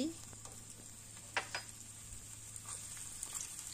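Finely chopped ginger fries in a little hot oil for chilli momos, with a quiet, steady sizzle and a few brief stirring scrapes, heard close but faint.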